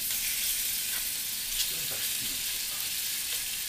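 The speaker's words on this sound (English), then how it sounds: "You have to sear your meat." Country style pork ribs searing in a hot pan: a steady, close sizzle and fry with a few faint scrapes and shifts, continuous and even throughout, no talk.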